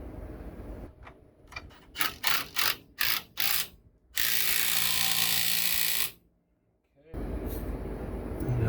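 A hand ratchet tightening steering linkage bolts on a vehicle: a burst of quick clicking strokes, then a long steady ratcheting run, a brief pause, and more ratcheting, all loud and close.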